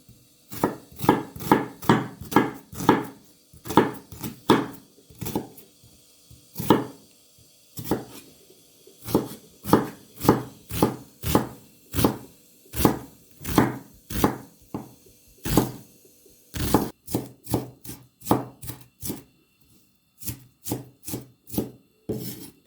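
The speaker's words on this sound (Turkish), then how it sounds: "Sonra da soğanlarımızı doğrayarak başlayalım" Steady, rhythmic knife chops on a cutting board as onions are finely chopped, dozens of crisp strikes in quick succession with brief pauses, close and clear, no talking.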